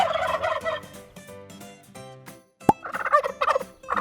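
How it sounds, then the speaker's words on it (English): A turkey gobbles loudly in a rapid, gurgling burst, followed by a sharp click and another fast run of gobbling calls, close and clear. "Gobble. Gobble."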